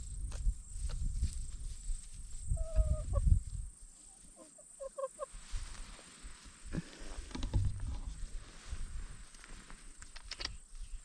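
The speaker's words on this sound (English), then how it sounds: "They are pretty birds though." Chickens on a farm clucking in short bursts between about 2.5 and 5 seconds, set among rustling, footsteps and outdoor farmyard noise, with quieter scattered sounds afterward.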